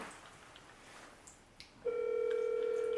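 A phone places a call, with faint taps before a steady tone starts and holds at a constant pitch in a quiet room.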